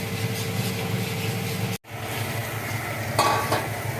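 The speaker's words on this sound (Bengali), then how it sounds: "আলু দিয়ে মশলাটা কষানো হচ্ছে" Steady sizzling from a pan of potatoes and spices frying, with occasional stirring scrapes, close and fairly loud, a kitchen chimney running, briefly cutting out for a moment midway.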